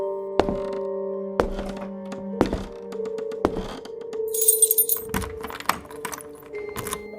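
A door unlocked with an old key and swung open, as a sound effect: several sharp thunks of the lock and handle, keys jangling in between, and a metallic clink, fairly close and with no voices.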